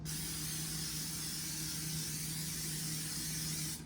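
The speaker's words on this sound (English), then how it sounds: "Make sure you spray your pan." A steady, continuous hiss of cooking spray sprayed onto a baking pan runs for a few seconds, fairly quiet with a faint low hum underneath.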